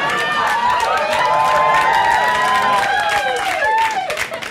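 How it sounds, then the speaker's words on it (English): A comedy-special audience claps and cheers together, loud sustained applause with whoops and chatter that starts to thin toward the end. "Strangest thing to clap for"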